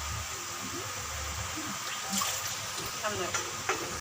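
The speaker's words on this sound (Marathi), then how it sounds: "ह्यामध्ये आता आपण थोडं थोडं करून पाणी टाकूया" Water splashes and sizzles into a hot pan of curry masala for mackerel curry, with soft stirring and scraping sounds, fairly close and moderately quiet.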